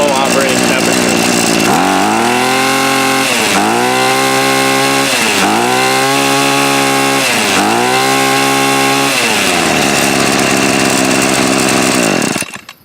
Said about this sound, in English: I'll let you hear the engine at full throttle